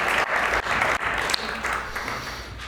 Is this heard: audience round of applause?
yes